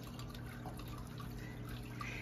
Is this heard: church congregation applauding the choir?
no